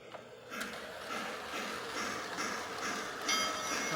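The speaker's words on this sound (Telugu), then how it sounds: "సెకండ్ ట్రైన్ కూడా మూవ్ అవుతుంది" A small toy train rattles steadily along its track with faint clicking, continuous and fairly quiet, with no one speaking.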